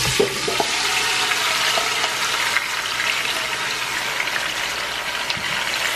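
Oxtails sear in a hot oiled pot on high heat, giving a loud, steady, broad sizzle that fills the whole stretch, close up with a few faint clinks early on.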